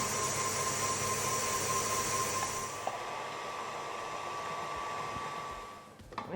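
An electric stand mixer running at medium speed whips egg whites and sugar for rose, raspberry and lychee macarons, a steady close whirring drone with a high whine that eases slightly partway through, alone without talk.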